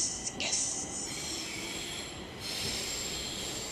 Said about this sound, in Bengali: দিল্লি মেল থেমে গেল।